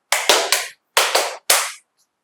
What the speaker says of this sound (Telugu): క్లాప్స్ ఒకసారి కొట్టు, క్లాప్స్ కొట్టు.